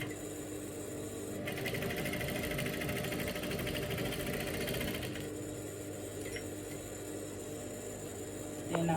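A sewing machine runs a basting stitch on a pencil skirt, a quiet rapid mechanical whirring lasting several seconds before stopping, set against faint room hum.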